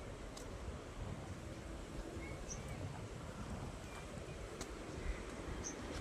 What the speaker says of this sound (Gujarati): બિલકુલ ઠંડો આઈસ પવન આવે છે